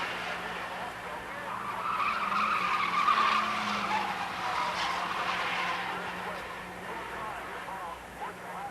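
A pack of 1980 Showroom Stock A race cars, a Porsche and a silver Mazda among them, roars into turn 1 with a steady blend of engine drone and tire scrub under continuous race commentary.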